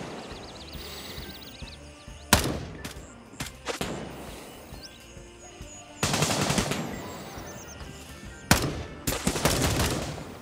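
Heavy gunfire in Gray Zone Warfare, a military shooter. Bursts of automatic fire crack loudly against a busy combat backdrop, with sharp shots near 2 and 8.5 seconds and dense volleys from about 6 seconds to the end.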